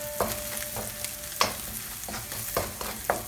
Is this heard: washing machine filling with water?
no